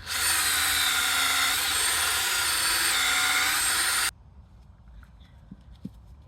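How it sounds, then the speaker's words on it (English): A power drill whines loudly and steadily for about four seconds while drilling a deep hole into a log for mushroom inoculation, then cuts off, leaving a quiet room with a couple of faint knocks. "I'm just drilling more holes randomly, and I'll be filling them as I go"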